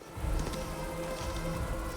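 Steady rain in the fantasy role-playing game Pathfinder: Wrath of the Righteous, a soft continuous patter with a low rumble underneath, heard alone without talk.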